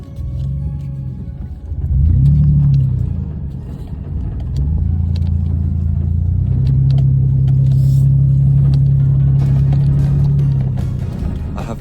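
A Ford Explorer driving with both front windows down, its engine rumbling steadily and swelling as it pulls onto a road from gravel, with wind and road noise close around the cabin.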